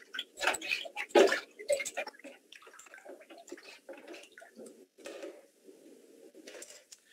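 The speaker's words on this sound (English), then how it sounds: "You want to give your water a nice stir," Paper pulp being stirred by hand through a vat of water for papermaking, giving irregular close sloshing and splashing bursts that are loudest early on and then settle into softer swirling.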